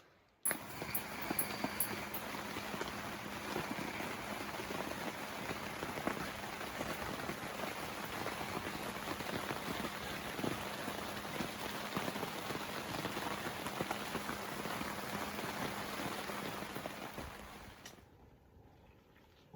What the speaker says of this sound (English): Well, it rained all day